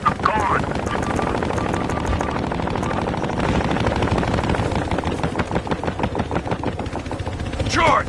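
Transport helicopter in the Battlefield Hardline video game, a steady rapid rotor chop running throughout, loud and close, with game effects and players talking over it.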